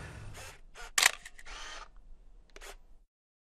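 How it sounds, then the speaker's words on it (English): Camera shutter clicks once as a close-up photo is taken of a small Honda HRN216 mower drive pulley, a sharp mechanical snap amid quiet handling noises and brief rustles nearby. "I'm going to take a close-up picture of this pulley."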